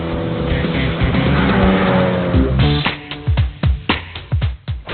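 A Mini John Cooper Works hot hatch laps a race track in Chennai in 43-degree heat, its engine roaring loudly and close, then shifting into a series of sharp, rhythmic revving bursts as it passes.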